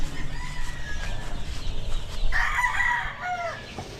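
Chickens and chicks in a coop in Cebu, with soft clucking and chirping over a low background murmur and a brief cluster of high peeps near the end, close by and moderately faint.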